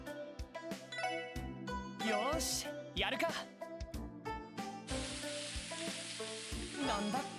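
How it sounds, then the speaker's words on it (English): A sandwich sizzles in a frying pan in the video game Trails from Zero, a steady loud hiss starting partway through and running under game music chimes and a person talking. "Is he frying a sandwich?"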